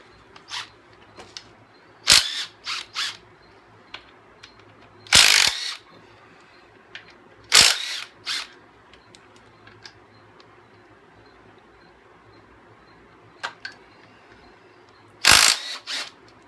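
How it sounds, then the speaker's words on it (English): An impact wrench removes the power steering pump bolts from an LT1 engine during a teardown, firing in several short, loud rattling bursts with quiet pauses and a few light clicks between them. "I'm going to use my impact here."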